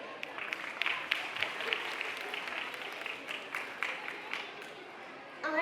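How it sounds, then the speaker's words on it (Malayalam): Audience applause for children at a school annual day celebration, a sustained crowd clapping that swells and fades over several seconds with some voices mixed in, ending on a brief louder burst. "നമ്മുടെ കുട്ടികൾക്ക് നല്ലൊരു കയ്യടി."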